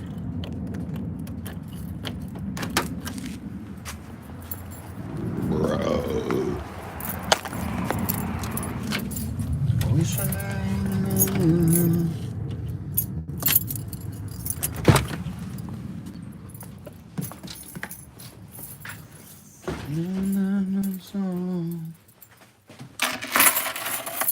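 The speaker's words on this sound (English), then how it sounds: "I'm gonna lock the car." Keys jangle and clink in short bursts beside a parked car as it is being locked, set against low outdoor rumble. A few sharp clicks and a brief tonal chirp follow near the end.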